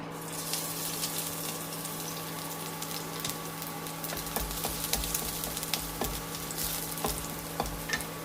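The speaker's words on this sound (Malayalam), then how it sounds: "ചൂടായ വെളിച്ചെണ്ണയിലേക്ക് വെളുത്തുള്ളി ചേർക്കാം" Garlic frying in hot coconut oil, a steady close sizzle with crackling bursts and occasional scraping stirs that grow busier in the second half, with no talking.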